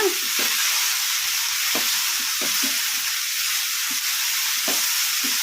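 Gongura (pundi) leaves sizzle steadily in a pan over medium flame, with a continuous bright hiss and occasional soft scrapes of a spatula stirring, close and loud with no talking.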